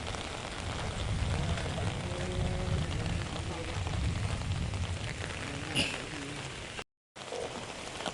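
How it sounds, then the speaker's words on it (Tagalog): Rain falls steadily as a broad, close hiss of drops on surfaces, continuing without pause apart from a brief cut near the end, with faint voices underneath. "Ulan oh."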